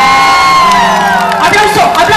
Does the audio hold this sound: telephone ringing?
no